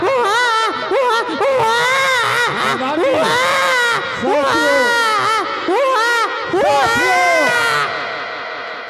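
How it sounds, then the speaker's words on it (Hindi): A baby cries loudly and close by in repeated wailing bursts with short breaths between them, fading slightly at the end, and a voice speaks briefly. "ये किसी बच्चे की रोने की आवाज है।"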